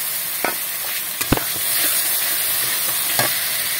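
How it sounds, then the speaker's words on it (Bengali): Spice paste of cumin, coriander and chilli frying in a pan with ginger and garlic for a fish roe dish, a steady close sizzle broken by several sharp spoon knocks and stirring scrapes, no talking. "এবার দিয়ে দেবো গুলিয়ে রাখা মশলাটুকু, জিরে, ধনে আর লঙ্কা।"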